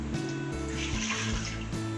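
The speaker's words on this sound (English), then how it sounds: "put the water in as well." Water pours into an Instant Pot fitted with its trivet, a soft continuous splashing and trickling against the metal inner pot, fairly quiet and close, with no talking.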